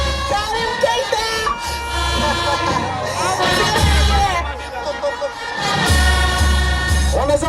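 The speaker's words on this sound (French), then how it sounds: "On les applaudit encore." A crowd at a legislative election campaign launch in Mali applauds and cheers, a loud, steady roar of voices and shouting with heavy low rumble, continuing without a break.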